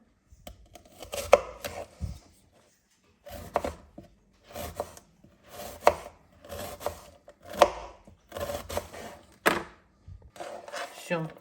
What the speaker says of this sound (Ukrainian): Готова цибулинка. Наріжемо полукільцями.